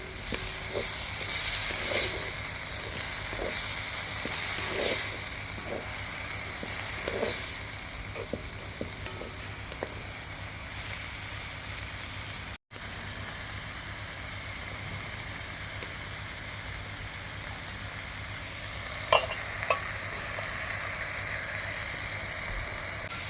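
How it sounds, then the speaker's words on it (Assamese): Wild greens fry over low heat in a pan with a steady soft sizzle, broken by light scraping and tapping of a spoon stirring, and a brief burst of clatter near the end. "অলপমান লৰাই কম জুইত ভাজিলোঁ"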